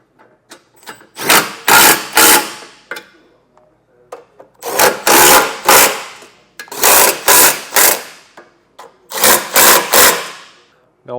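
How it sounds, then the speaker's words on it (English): A socket wrench or impact tool tightens the mounting bolts of a Curt Class I trailer hitch on a 2025 Toyota Corolla hatchback, in four loud bursts of repeated whirring ratchet pulses separated by short pauses, close up. "Now we're ready to snug everything down."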